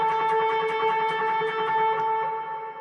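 Electric guitar with delay and overdrive, sustained driven tones ringing steadily with rhythmic picked notes repeating over them, fading slightly at the end.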